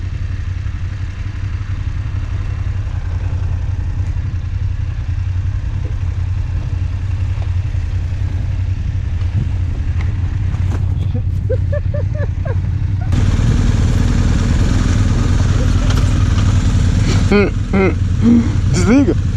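A dual sport motorcycle engine idles steadily with a low, continuous rumble throughout, growing louder and fuller in the later seconds, with people talking over it.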